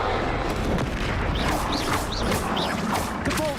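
A Confringo blasting curse goes off in Hogwarts Legacy, a dense, rumbling barrage of magical blasts and crashes running steadily throughout, with whooshing spell sounds layered over the continuous roar.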